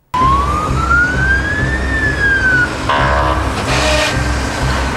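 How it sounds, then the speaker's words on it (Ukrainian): A loud emergency siren wails, rising in pitch and then falling, followed by a rapid electronic yelp over a rumbling engine. "На такий знак спецсигналу водії транспортних засобів повинні відповідно реагувати."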